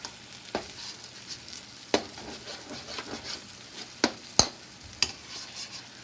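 Chicken thigh curry spices fry in oil with a soft, steady sizzle. Sharp clacks of a utensil stirring against the pan cut in now and then, several of them close together near the end.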